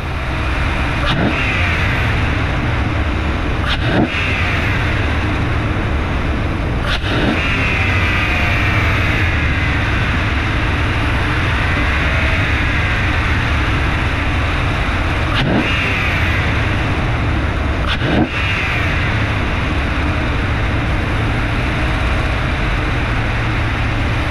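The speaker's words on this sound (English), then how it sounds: "throttle this thing up so it ingests as much of this cleaner as possible" A Dual Spark HEMI engine runs and is held at raised revs while ingesting sprayed intake cleaner, a loud, steady close-up drone with a few sharp clicks and brief dips in pitch, no voices.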